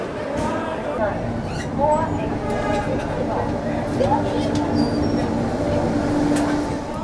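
The Mysore-Jaipur Express pulls out of Bhopal Junction, its loud, steady rumble and clatter of carriage wheels filling the whole stretch, with faint squeals and indistinct voices mixed in.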